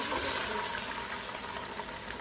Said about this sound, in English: I'm gonna go ahead and put it, pour it inside the pot, inside the shrimp oil.